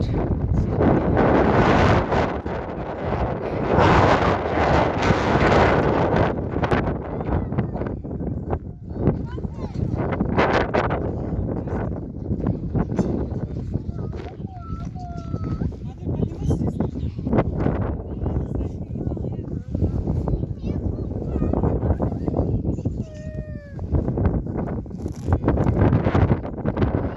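Gusty wind on a hilltop rumbles heavily against the microphone in uneven surges, loud and close. A person speaks at times under the buffeting.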